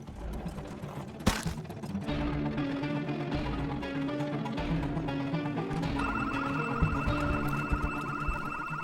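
A house alarm in the video game Project Zomboid goes off after a sharp click and keeps ringing as a steady electronic tone, loud and continuous with no talk over it.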